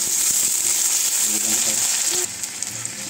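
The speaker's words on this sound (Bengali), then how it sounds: "আলুটা ফ্রাই করে নিব।" Potatoes frying in a pan for a ridge gourd and potato dish, a steady close hiss and sizzle with faint clinks and stirring, the sizzle dropping slightly in level partway through.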